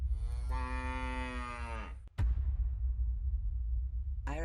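A cow gives one long, loud, close moo lasting about two seconds. It cuts off abruptly and is followed by a burst of noisy rumble.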